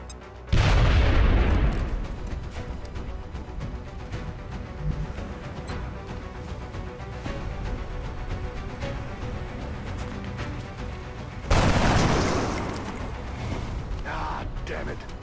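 Frag grenade blast and gunfire inside a video game: a loud explosive boom near the start, a stretch of low rumbling action, then a second heavy burst near the end.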